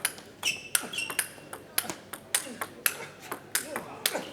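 Table tennis ball in a world championship final, sharp repeated clicks of serve, bounces and paddle strikes in a quick rally, fairly close, with some crowd murmur behind.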